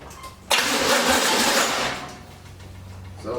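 A 1981 Pontiac Trans Am engine with something left on top of the carburetor cranks briefly, then catches and starts, settling into a rough, close idle with no talking.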